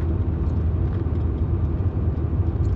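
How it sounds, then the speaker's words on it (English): An MG MGF car's mid-mounted engine rumbles steadily from close by, behind the listener, as the car drives along, a low constant drone with road noise and no talking. "Got the engine behind you so you can hear it."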